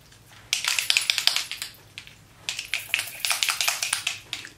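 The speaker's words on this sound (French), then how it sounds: "Vous entendez, il fait le bruit d'une canne de peinture." A can of Fix Plus spray is shaken, its loose ball rattling like a paint can in two bursts of quick, sharp clacks, with a brief pause between them and no talk.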